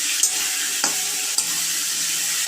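Diced potatoes rubbed with salt and turmeric fry in oil left from frying prawns, a steady close sizzle broken by a few scrapes of stirring.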